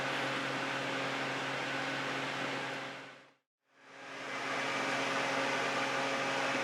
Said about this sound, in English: The fan's still running, sorry about that.